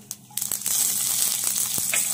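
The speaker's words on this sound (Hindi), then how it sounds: "राई को तड़क जाने देते हैं, और इसी के साथ इसमें जाएगी 1 सूखी हुई लाल मिर्च।" Mustard seeds and a dried red chili crackle and sizzle in hot oil for a peanut chutney tempering. A loud, close, continuous frying hiss follows a few sharp pops at the start.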